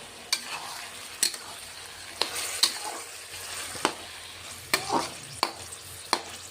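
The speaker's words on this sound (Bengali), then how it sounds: "বন্ধুরা 1 মিনিটের মতো আমি কষিয়ে নেব লাউগুলিকে।" Bottle gourd stir-frying in a pan for a fish-head lau ghonto over raised heat: a low steady sizzle broken by periodic sharp spatula knocks and scrapes against the pan, close and unaccompanied by speech.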